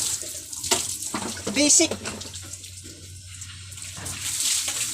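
Water splashes and pours in uneven bursts from a drum as someone bathes outdoors in hot weather, heard near and fairly loud, with a brief spoken word over it.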